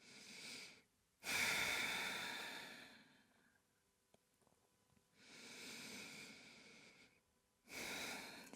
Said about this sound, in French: Respirez.